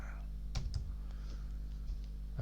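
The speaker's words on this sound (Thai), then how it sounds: "ผมจะพิมพ์คำว่า farmer กันแล้วกันนะครับ f a r m e r" A few faint, separate keystrokes tap on a computer keyboard, sounding against a steady low electrical hum.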